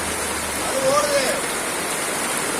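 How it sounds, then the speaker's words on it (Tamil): Steady rain falls on a village area, a dense, even wash of drops with a faint voice briefly audible partway through. "மழை பெய்யுது, மறுமலை."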